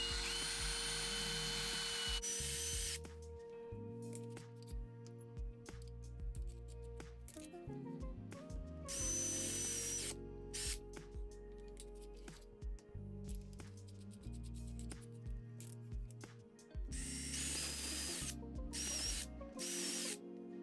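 A power drill fitted with bits freshly sharpened on a Parkside PBSG 95 F6 sharpener bores into pine in repeated bursts, with high whining runs separated by brief pauses and spin-downs.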